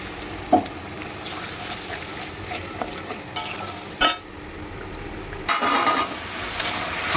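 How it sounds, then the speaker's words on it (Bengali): Spice paste with coriander powder, salt and turmeric frying in oil, stirred with a spoon: a steady sizzle runs throughout, broken by scraping strokes and louder bursts of crackling near the end. "ভালো করে কষিয়ে নেব যতক্ষণ মশলার থেকে তেল না ছাড়ে।"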